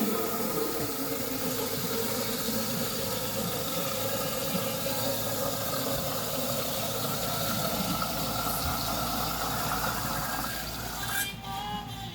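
Hot tap water runs steadily into a sink to sterilize a baby bottle, a continuous hissing splash that stops abruptly near the end.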